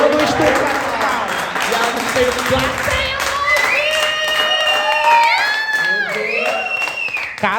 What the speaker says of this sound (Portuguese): Aplausos, galera!